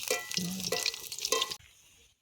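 Spinach pakoras fry in oil, producing a close, bubbling sizzle with crackling bursts that cuts off abruptly after about a second and a half, leaving near silence.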